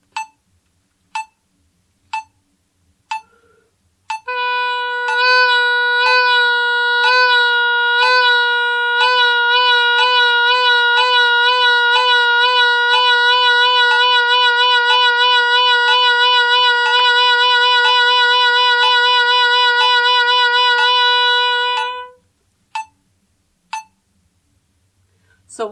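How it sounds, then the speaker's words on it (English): A solo oboe plays a vibrato exercise against a metronome ticking at 60 beats per minute, one sustained note pulsing in steadily faster waves before stopping, with sharp isolated clicks before and after, close and without speech. "I put my metronome at 60, and then I play 4 quarter notes, 4 beats of eighth notes, 4 beats of triplets, and 4 beats of 16th notes."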